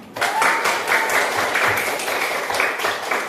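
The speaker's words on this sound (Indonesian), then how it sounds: "Tepuk tangan." Classroom applause for a student group just awarded a score of 90, a dense, steady patter of many hands clapping close by for about three seconds, with no voices over it.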